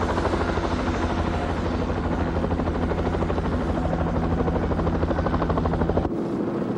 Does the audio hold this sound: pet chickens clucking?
no